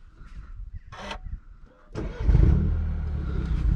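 Straight-piped BMW 1 Series starting up after a cold start: faint clicks and a brief whir, then the engine catches with a sudden roar and settles into a deep, loud, rumbling idle close by.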